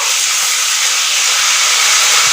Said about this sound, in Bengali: এই লঙ্কাগুলো আমি এখন তেলের মধ্যে দিয়ে দেবো